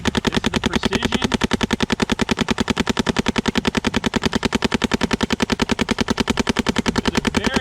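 A Planet Eclipse CS2 paintball marker fires APX paintballs in a long, rapid, unbroken stream of evenly spaced, loud, sharp pops outdoors, sustained for several seconds.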